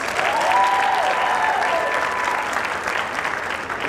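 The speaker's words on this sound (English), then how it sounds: "One more round of applause for Alex." Audience applause fills a school band spring concert hall, a steady, dense round of clapping that holds loud throughout before easing slightly toward the end, with no voices standing out.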